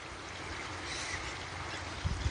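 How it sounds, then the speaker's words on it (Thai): Water seeps and spills through a broken canal dike into flooded rice fields like a small waterfall, a steady broad rushing wash heard outdoors with a few low thumps near the end. "นี่ตรงนี้ก็มาซึมเป็นน้ำตกเลยครับนี่"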